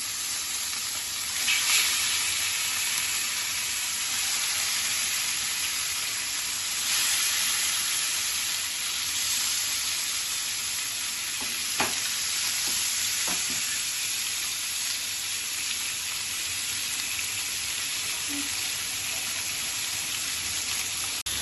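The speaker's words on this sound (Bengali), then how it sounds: "তেল গরম হয়ে গেছে, এবার মাছগুলো আমি ছেড়ে দেবো" Rui fish frying in hot oil, a steady bright sizzle and crackle that holds evenly throughout, with a few sharp pops and spatters.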